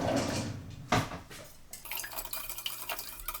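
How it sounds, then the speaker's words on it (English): A whisk clinks and rattles quickly against a bowl while preparing cordon bleu, starting after a few kitchen knocks and continuing as a busy, close, fairly quiet scraping patter. "Whisker that in. Grab yourself a whisk."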